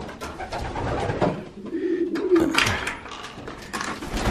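Pigeons coo steadily in a loft, low throaty calls repeating close by, with a few rustles and movements of the birds mixed in and no talking.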